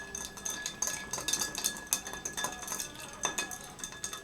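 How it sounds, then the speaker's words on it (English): A spoon clinks and swirls against ice in a mixing glass while a Martinez cocktail is stirred, producing continuous close, bright tinkling and scraping with irregular louder clinks, no voices. "As you can see, the spoon easily swirls around as I stir."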